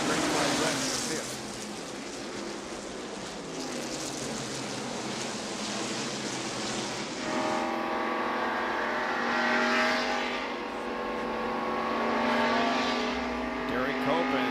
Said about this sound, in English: Derek Copen, Dale Jarrett, and Michael Waltrip passing the Heinz car.